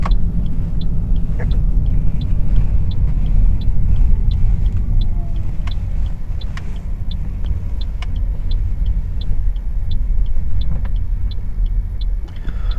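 A 2018 Toyota Aqua hybrid hatchback drives and swings through a U-turn, its low road rumble and tire noise steady throughout, with a series of regular faint high ticks repeating in the cabin.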